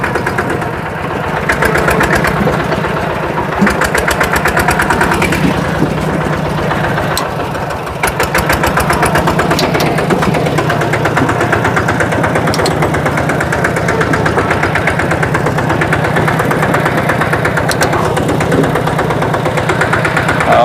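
A loud, steady engine idles close by, chugging with an even low rumble and rattling vibration that continues without a break.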